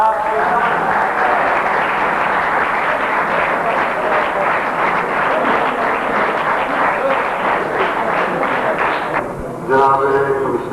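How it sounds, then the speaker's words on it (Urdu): Audience at a silver jubilee ceremony of the Pakistan Association of the Blind clapping in a dense, sustained wash of applause that fades briefly near the end as voices come through. "میری خواہش ہوگی کہ تالی آپ بجائے"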